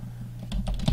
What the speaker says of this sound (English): you can click in there and just type a title